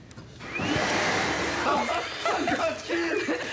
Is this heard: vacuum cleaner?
yes